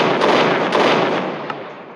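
A bazooka shot in a comedy sketch, heard as one loud, close blast of broad noise that swells at once and fades out over about two seconds, with no talk.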